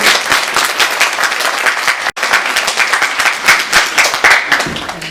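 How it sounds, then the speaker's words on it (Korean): Congregation at a Sunday church service applauds birthday celebrants with dense, steady clapping that holds loud for five seconds, broken by one brief gap near the middle. "우리 한 번에 박수를 축하해 주겠습니다."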